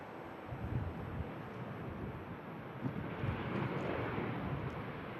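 A jet airliner prepares to depart Manchester Airport during a storm, its broad engine roar steady and fairly distant beneath constant gusting wind buffeting the microphone.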